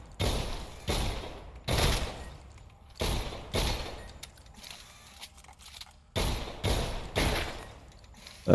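Pistol fired in the Selaco shooter game: loud, sharp gunshots in short groups of two or three, separated by brief gaps, each with a thudding low-end punch and a quick decaying tail.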